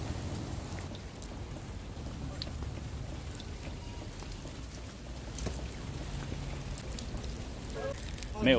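Steady rain falling outdoors, a dense continuous hiss of drops hitting surfaces throughout, fairly close, with a brief clatter right at the end.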